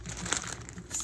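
A plastic bag holding peeled bananas crinkles briefly, a short quiet rustle heard close with no voices.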